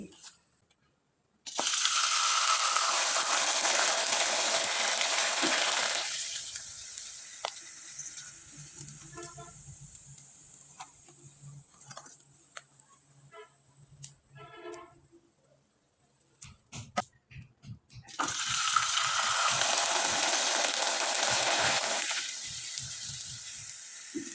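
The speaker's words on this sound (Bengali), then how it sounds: "আমি একইভাবে কয়েকটা পাঁপড় আপনাদের ভেজে দেখিয়ে দিচ্ছি" Sabudana papads hit hot oil with a loud, bright hissing sizzle that bursts up twice, with quieter crackling and scattered pops in between.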